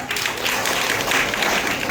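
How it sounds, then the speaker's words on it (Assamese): Applause at a parents' meet for a student, a dense, continuous clapping from a crowded room, moderately loud and steady throughout. "হ'ব মেথছৰ ডাঙৰ হাত চাপৰি দিয়া"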